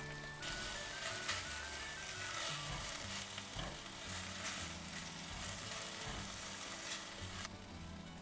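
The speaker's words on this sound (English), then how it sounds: "Fry the garlic and also the dry squid until they are fragrant." Garlic, dried squid and dried chilies fry in hot oil for a bak kut teh stir-fry, giving a steady, loud sizzle with stirring and scraping throughout.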